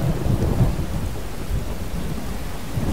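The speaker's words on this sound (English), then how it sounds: "Don't you love the sound of a storm?" A continuous stormy wash of rain and low thunder rumble in Chivalry: Medieval Warfare, a medieval combat game, holding steady and fairly loud without any single sharp crack.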